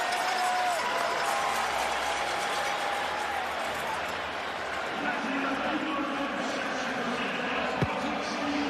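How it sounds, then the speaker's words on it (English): Football stadium crowd at a CFL game between Calgary and Winnipeg, a broad roar of cheering that swells steadily throughout, with a commentator's voice over it. "And the crowd getting fired up again."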